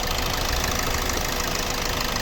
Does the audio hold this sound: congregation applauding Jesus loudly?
no